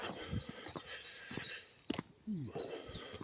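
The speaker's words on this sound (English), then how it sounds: "early in the morning, all the birds singing, it's nice, no noise, peaceful." Faint birdsong in the early morning outdoors, a few scattered chirps and short calls heard at a distance, with light rustling and a quiet background in between.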